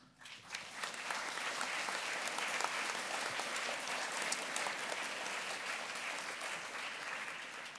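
An orientation audience applauds its presenters and partners, a steady dense wash of clapping that starts abruptly and holds at an even level throughout, with no speech over it.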